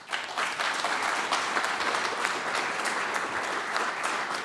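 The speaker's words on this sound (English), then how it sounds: "give them an applause." An audience at a Linux conference applauds the speakers and organizers, with steady, sustained clapping from a moderately distant crowd lasting a few seconds.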